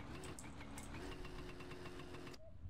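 Motorcycle engine idling in the video game My Summer Car during a heavy rainstorm, a steady, even mid-pitched drone that runs for over two seconds and then cuts off abruptly.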